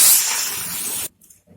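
Hot water poured into fried taro in a hot pan sets off a loud, close steaming hiss that holds for about a second, then cuts off to near silence with faint bubbling.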